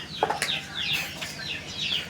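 Chicken clucking at a home, several short clucks and calls scattered through the clip at moderate, close range with no talk over them.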